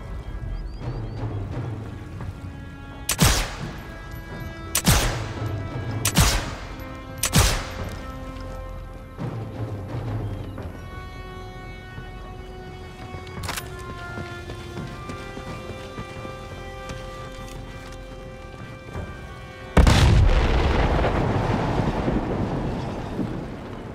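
V2 rocket firing and blowing up in the video game Sniper Elite 5, heard as a sudden loud roaring blast near the end, after a series of sharp separate impacts over a steady hum of game ambience.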